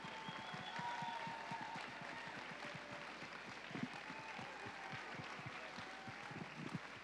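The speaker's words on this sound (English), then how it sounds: "Let's give them a round of applause." Festival gala audience applauding host families in a theater: steady, fairly distant clapping from a crowd, a dense even patter of many hands with a few sharper claps, continuing throughout.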